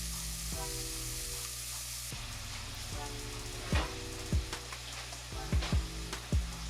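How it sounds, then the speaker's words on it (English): Ground beef browns in a pot with a continuous sizzle, while repeated low thumps and scrapes of stirring and breaking up the meat come through up close. "all we finna do is brown this ground beef off"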